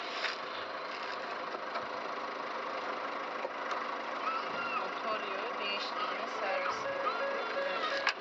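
A manual car sits idling in place without moving, its steady engine hum running continuously under people talking and background noise.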